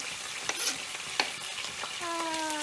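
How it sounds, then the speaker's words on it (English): Chopped onions hit hot oil in a pan for a Sri Lankan mackerel curry, giving a steady close sizzle with a couple of sharp clicks from a utensil. A brief tonal whine rises near the end. "I'm going to add the onions in."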